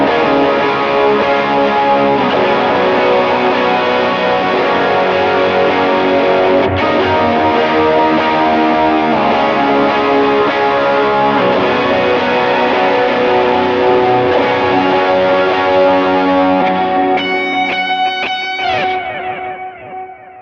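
Electric guitar on the bridge pickup with an overdriven tone, plate reverb and delays, playing a sustained lead line for about twenty seconds before the final notes ring out and fade.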